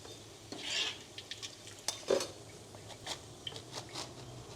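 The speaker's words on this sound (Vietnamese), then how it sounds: "Hành đã vàng rồi thì mình sẽ tắt bếp và vớt cái phần tóc mỡ này ra." A utensil scrapes and clinks against a pan as fried pork cracklings are scooped out with the heat off, in a few short, close scraping strokes and light metallic taps.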